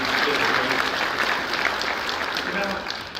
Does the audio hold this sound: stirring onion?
no